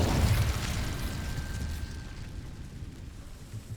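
Incendio fire spell cast in Hogwarts Legacy: a loud, rumbling burst of flame at the start that swells and then slowly fades into a long, roaring tail.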